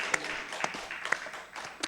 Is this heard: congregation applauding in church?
yes